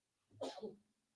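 One short, faint sneeze from a man on a radio sports talk show, a single explosive burst in an otherwise quiet moment.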